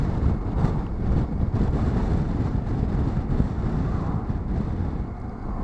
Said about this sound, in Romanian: mai aici tot timpul e vânt, că ești în Marea Nordului